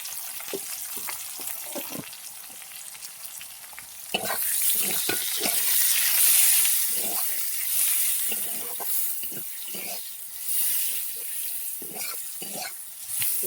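Onions frying in a pan for a small-fish Bengali curry, a steady sizzle that swells loud about four seconds in, with repeated scraping stirs breaking through the hiss at close range, no voices.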